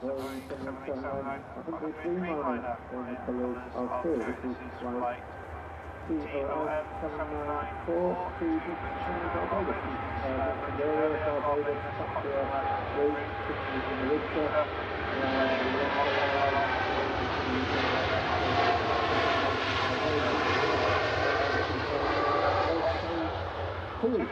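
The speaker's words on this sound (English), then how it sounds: "There's Tui Dreamliner on the roll, heading out to Bridgetown" A seven-year-old TUI Boeing 787 Dreamliner rolls for takeoff at Manchester Airport, its broad jet roar building steadily from a distance under continuous spoken commentary.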